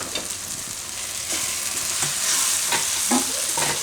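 Brinjal sizzles in hot oil in a home kitchen pan as coriander-cumin powder and fenugreek leaves are added and stirred in, with a steady frying hiss and occasional scraping knocks of the spoon.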